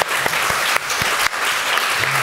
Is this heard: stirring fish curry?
no